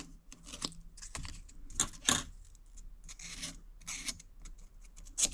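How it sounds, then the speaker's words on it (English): Burrs being knocked off a cigar cutter blade with a flat sharpening piece, giving quiet, close metallic rasps and light taps in short irregular bursts. "I get my flat piece and come over here and just knock the back side"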